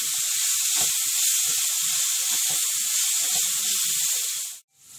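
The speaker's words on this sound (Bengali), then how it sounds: "দেখুন বন্ধুরা, পেঁয়াজটা ভাজা হয়ে গেছে।" Onions frying in hot oil for a Mughlai paratha filling, a steady loud sizzling hiss with scattered crackles and pops, continuous until it cuts off abruptly near the end.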